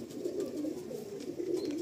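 A male white-eyed Malbai pigeon coos in a loft, a low, steady, rolling coo repeating close by with no voices.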